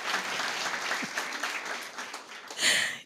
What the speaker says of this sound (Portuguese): É de bom tom aplaudir, tá?